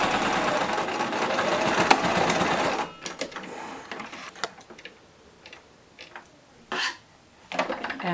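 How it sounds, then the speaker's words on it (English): A sewing machine stitches a fabric mask close to its outer edge, running in a loud steady burst for about three seconds, then stopping into quieter taps, clicks and short bursts of handling noise. "I am sewing very close to this outer edge"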